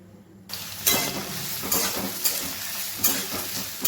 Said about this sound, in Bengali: কড়াই গরম হয়ে গেল আমি তেল দিয়ে দিলাম তেলের মধ্যে এবার পেঁয়াজগুলো দিয়ে দেব